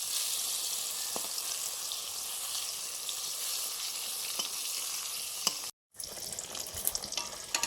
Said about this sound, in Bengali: এখন হচ্ছে বেগুন ভাজা